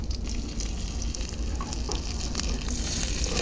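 Dried red chillies, whole cumin and a bay leaf frying in a little mustard oil in a kadai, a steady close sizzle with fine crackling spatter that runs evenly throughout.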